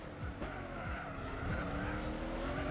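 A Proto Motors Spira, a South Korean car, races in Gran Turismo 4 on the PS2, its engine droning loudly and continuously while the tires squeal repeatedly through sliding turns.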